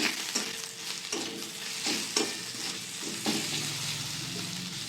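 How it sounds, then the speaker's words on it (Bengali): Coriander, turmeric and Kashmiri chili powders sauté in a pan with a little sugar, a soft steady sizzle broken by regular scraping stirs up close. "মশলাটা ভালো করে কষিয়ে নেব।"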